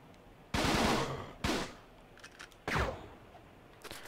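Gunfire from a gun in the video game Fighting Force 2 comes in loud, close bursts: a long rattling volley, a shorter burst, then another sustained volley, with a faint shot at the end and no talking.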